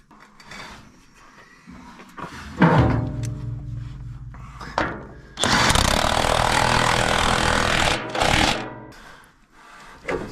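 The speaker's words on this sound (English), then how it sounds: "The impact tightens things pretty good, even on the next lowest setting." An impact wrench tightens bolts on a Super W-6 tractor during repairs: scattered rattling bursts, then a long loud hammering run followed by a short final burst, close by.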